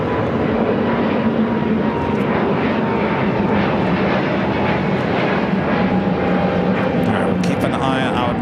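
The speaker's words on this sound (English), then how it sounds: "How about a 747-400 here on the south side?" A Boeing 747-400 jet on the south side at LAX gives a steady, loud engine roar throughout, with a voice speaking over it.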